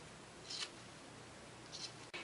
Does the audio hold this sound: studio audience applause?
no